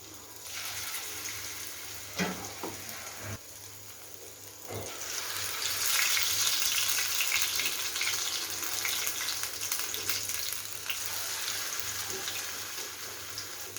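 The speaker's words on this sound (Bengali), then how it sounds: "আমি এভাবে পাতলা পাতলা করে বড়াগুলো ভেজে নেব।" Thin shrimp fritters (chingri bora) fry in a pan with a steady, rushing hiss that swells and stays loud through most of the stretch, broken by a few faint knocks early on.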